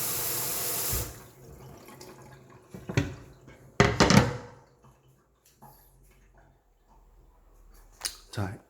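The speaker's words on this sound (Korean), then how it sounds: "물 한번 틀어 볼까요?" Water runs from a kitchen faucet into a sink in bursts, splashing briefly, with quiet handling noises in between.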